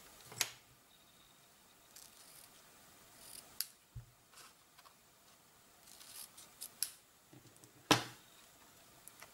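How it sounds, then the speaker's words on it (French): Scissors trim the two loose ends of a ribbon bow tied on top of a small Christmas gift box, giving a few quick, crisp snips spread out among quiet handling rustles, close to the ear. "je vais venir couper les extrémités"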